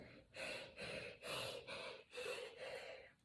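A person imitates the panting of a mouth-breathing monster named Herbert, with five or six slow, breathy, rasping pants in steady rhythm, close and clear.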